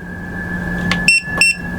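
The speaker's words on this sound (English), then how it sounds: "I heard a beep." Two short electronic beeps from an EcoFlow Delta 3 power station powering on, a fraction of a second apart, clear and close over a steady background hum.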